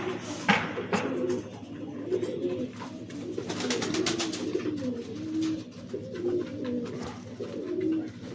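Pigeons kept by a seller of Giribaz, Madrasi and Malwai breeds coo in repeated soft, throaty rolling calls, several birds close by, with a sharp wing flap or clatter near the start.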